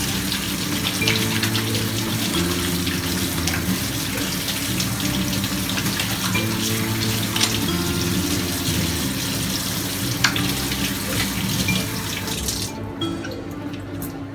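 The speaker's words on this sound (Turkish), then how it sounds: "Şimdi ellerime duruluyorum." A kitchen tap runs in a steady, close stream while hands are rinsed under it, continuing for about thirteen seconds before the flow stops.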